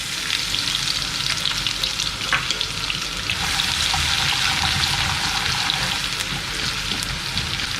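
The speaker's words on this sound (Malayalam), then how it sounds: "നമ്മൾ അതിനകത്തോട്ട് വെളുത്തുള്ളി ആഡ് ചെയ്യാം കേട്ടോ." Garlic hits hot oil with already-popped mustard seeds while making Nilambur-style idi irachi, dried beef, giving a steady, loud, close sizzle with stirring scrapes and small crackles throughout.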